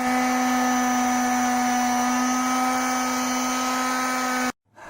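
Power tool cutting the threaded rod of an old rear shock from a Fiat 500 Abarth, a steady high whine held for over four seconds before cutting off abruptly.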